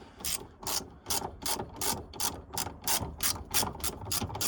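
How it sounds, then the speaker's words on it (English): A ratchet tightening the top bolt of a Seat Arosa's rear suspension during a GTI suspension install, with a dozen evenly spaced sharp clicking strokes, close and distinct with no talking. "I'm just tightening the top bolt now, which will bring us nicely into place"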